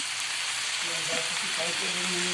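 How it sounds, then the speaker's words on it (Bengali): Cauliflower and potatoes with turmeric sizzling and frying in a pan, a steady bright hiss with soft scraping stir sounds rising underneath. "নাড়াচাড়া করে মিশিয়ে নেবো যাতে সবজির মধ্যে হলুদটা ভালো করে ঢুকে যায়"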